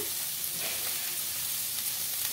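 Chopped onions fry with a pinch of salt in a pan for a dry fish curry. A short, steady, close sizzle carries a faint stirring texture, with no talk.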